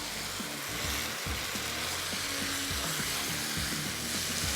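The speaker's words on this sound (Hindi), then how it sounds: "इसमें हम शामिल कर देंगे चिकन, साथ में शामिल करेंगे थोड़ा सा नमक, और तेज़ आंच पे इसको हमने 5 मिनट फ्राई करना है" Chicken frying on high heat in karahi gravy gives a loud, continuous sizzle and hiss, close up, with low clanks and scrapes of stirring underneath.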